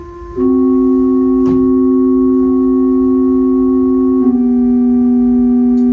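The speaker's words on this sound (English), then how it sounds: "try that with the stopped diapason and see what it sounds like" A steady, pure-sounding pipe organ stopped diapason stop holds a single note, then shifts slightly, with a soft flute-like quality and a faint tap partway through.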